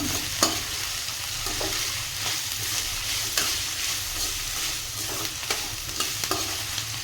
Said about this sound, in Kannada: ಇದು 1 ನಿಮಿಷ ಎಣ್ಣೆಯಲ್ಲಿ ಫ್ರೈ ಆಗುತ್ತೆ